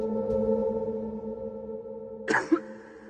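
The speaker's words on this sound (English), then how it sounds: "A person coughs once" A single short cough breaks through a steady electronic hum, brief and close, followed by a quieter catch of breath.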